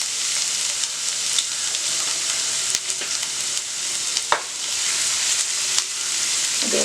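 Finely chopped garlic sizzles and fries in hot oil in a pan, a steady close crackling hiss with a few sharper pops and a stir near the end, no voices.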